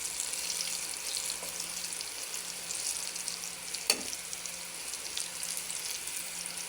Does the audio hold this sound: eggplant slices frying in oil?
yes